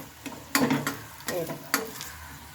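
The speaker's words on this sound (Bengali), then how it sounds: "আঁচটা কমিয়ে একটু ভালোভাবে ভেজে নেবে লাল লাল করে" Cauliflower pieces coated in flour batter fry in oil, a close sizzle with bursts of louder crackling and bubbling that rise and fall over a couple of seconds, with no talk.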